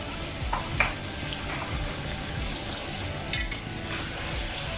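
Sizzling spices fry steadily in a biryani pot, with garam masala and biryani masala in the pot. A spoon stirs and scrapes now and then, giving brief metallic clinks over the constant close hiss.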